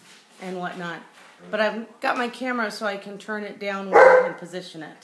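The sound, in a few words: dog barking in the background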